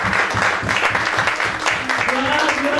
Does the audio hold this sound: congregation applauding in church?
yes